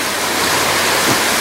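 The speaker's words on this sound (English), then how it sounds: "there's the Sheridan River running really fast." Fast-running Sheridan River in flood after heavy rain, a steady, loud broadband rush of water with no breaks, heard up close from a parked truck.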